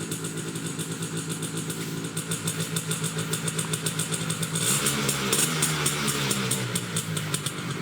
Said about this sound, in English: If there was ever a vehicle that deserved the term rickety, this is it.